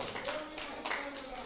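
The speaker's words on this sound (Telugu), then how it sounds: "కొట్టు చప్పట్లు." A church congregation claps together in quick, loose bursts, with a voice over the applause, heard at moderate distance in a large room.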